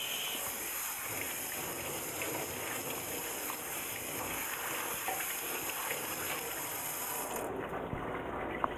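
Running water from a tap while stag beetle supplies are washed, a steady close hiss with faint clinks and handling noises, cutting off sharply near the end; no talk.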